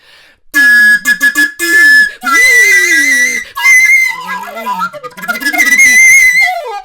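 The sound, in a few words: recorder played loud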